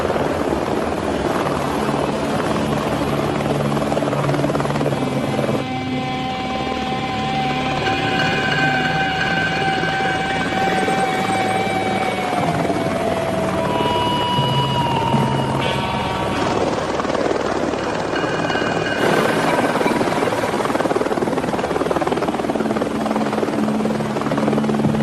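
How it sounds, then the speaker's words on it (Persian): A helicopter flies close by with a loud, continuous rotor and engine drone lasting the whole stretch, with steady whining tones rising and shifting over the roar. "به جای اتوبوس آقا رو با هلیکوپتر آوردنش"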